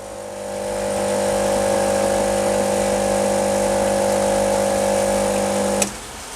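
A steady mechanical hum from an espresso machine pump running during a three-second pre-infusion, loud and even for about six seconds before it cuts off abruptly; no one speaks.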